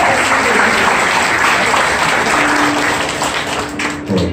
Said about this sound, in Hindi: जोरदार तालियां इन दोनों के लिए.